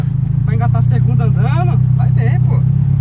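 A Chevrolet Chevette's engine drones loud and steady on a race track, a constant low rumble running throughout while someone talks over it.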